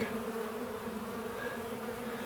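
Honey bees buzz steadily during a bee removal, a dense continuous drone from many insects close by, unbroken and fairly loud throughout with no voices.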